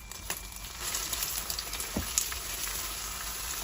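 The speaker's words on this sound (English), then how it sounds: "Once the oil is smoking, add the beaten eggs. Stir fry quickly." Beaten eggs hitting smoking-hot oil and being stir-fried quickly for a shrimp and vegetable stir fry, giving a steady, fairly quiet hiss and crackle with a few sharp spatula knocks, no voices.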